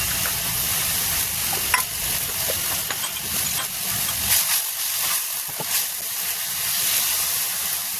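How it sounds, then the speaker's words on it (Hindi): Onion, garlic and ginger masala fries in oil with a close, continuous hissing sizzle, punctuated by occasional stirring clicks. "मसाले को जब तक भूनेंगे जब तक कि इसमें अच्छी सी सुगंध नहीं आने लगी।"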